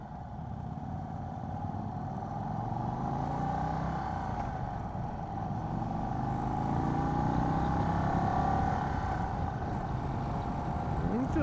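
A 2024 Indian Sport Chief motorcycle engine pulls along in first gear, a steady low rumbling drone with mild wind noise that swells slightly as the ride goes on.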